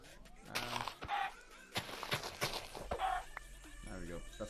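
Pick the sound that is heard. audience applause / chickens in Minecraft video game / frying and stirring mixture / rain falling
chickens in Minecraft video game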